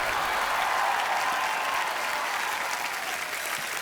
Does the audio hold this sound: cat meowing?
no